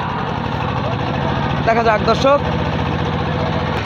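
Engine-powered racing boats in a boat race, a steady droning engine hum throughout, with a commentator speaking briefly over it midway.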